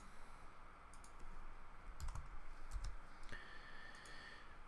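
Scattered key clicks from typing on a ThinkPad laptop keyboard, a few sharp taps in small clusters over a steady room hum, close and moderately quiet.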